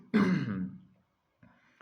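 A single loud throat clearing with a short cough, close to the microphone during a home sound-system walkthrough, followed by silence and faint small noises.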